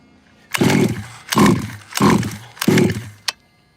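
A nitro RC car engine being tuned gives four loud, close revving bursts in a steady rhythm, each dropping back briefly before the next, ending with a short sharp blip.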